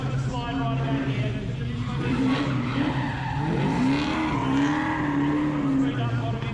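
A Ford Falcon drifting around a track, its engine droning and tyres squealing in rising and falling slides as the back kicks out, heard under a commentator's talk.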